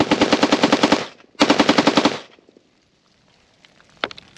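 Rifle fitted with a Rare Breed FRT-15 forced reset trigger firing two rapid strings of shots, the first about a second long and the second slightly shorter after a brief pause, loud and close, then near silence with a few faint clicks.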